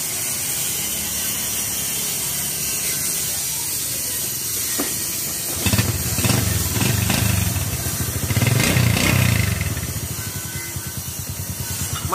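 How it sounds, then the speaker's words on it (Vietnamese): A Honda Cub 81 motorcycle engine idles with a soft, steady hum and hiss, then louder mechanical rattling and a rumbling surge partway through, fairly close. "Máy nổ thì thầm không một tiếng kêu nha bà con."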